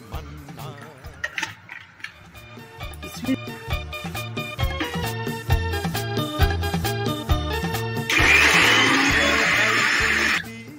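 Over background music, a mixer grinder whirs loudly for a few seconds as it grinds a spice paste with added water. The motor gives a steady, harsh roar near the end.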